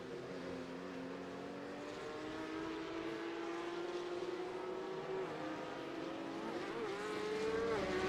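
Race cars lapping at Monza in a racing video game, a sustained engine whine rising and falling in pitch as cars pass, fairly steady and moderately loud with no talking.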